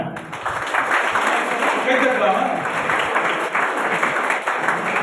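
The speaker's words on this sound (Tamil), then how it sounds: "கைத்தட்டலாமா?" An audience at a pharmacy college freshers' day celebration claps after a chief guest's remark, a sustained, fairly loud burst of applause from a crowd with some voices mixed in.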